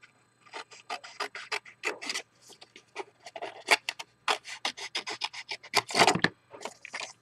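Scissors cutting out a small paper square for a tiny paper top hat: close, quick snipping and rustling strokes in irregular bursts, fairly faint, with no talking.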